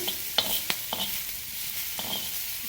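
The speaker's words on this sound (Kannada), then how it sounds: "ಈ ರೀತಿಯಾಗಿ ಈರುಳ್ಳಿ ಮತ್ತು ಬೆಳ್ಳುಳ್ಳಿನ ತುಂಬ ಚೆನ್ನಾಗಿ ಹುರ್ಕೊಳ್ಳಿ" Onion and garlic fry in a pan with a steady soft sizzle, broken by a few sharp clicks and scrapes from stirring, close up and with no talking.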